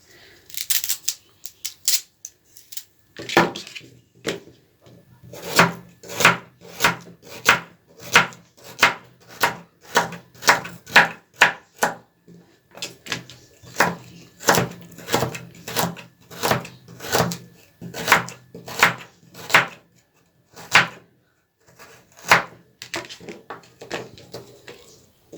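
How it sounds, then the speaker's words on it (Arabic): Knife chopping turnips and carrots on a cutting board for mixed pickles: a steady run of crisp, close, rhythmic chops, with short pauses near the start and twice more as the vegetables are gathered. "نقطع بقى اللفت كله كده، ونقطع برضو الجزر"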